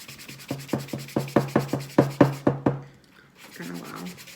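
Hand sanding with repeated rhythmic scraping strokes, about a dozen back-and-forth passes close up, then a pause and a softer rustle.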